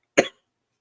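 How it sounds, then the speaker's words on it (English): A sick podcast co-host gives a single short, close cough, dry and sharp, followed by silence. "Sorry if I cough your guys' ears off."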